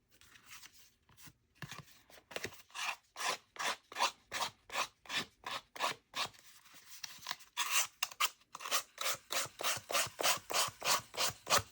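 Paper edges being shaved down for a junk journal, a quick series of rhythmic rasping scrapes, close and crisp, repeating steadily with short gaps and no talk.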